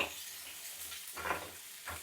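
Tomatoes sizzle softly in a pan, a low steady crackle with a couple of brief louder swells, quiet and close.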